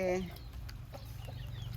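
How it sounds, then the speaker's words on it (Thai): Chickens cluck near a house on a rural Thai garden farm, short scattered clucks at moderate volume over a low background hum, with a brief louder call at the start. "เสียงไก่เสียงกาขันเนาะ"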